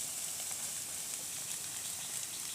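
Food sizzling and frying in hot cumin oil, a steady, dense crackling hiss that holds close and even throughout with no break.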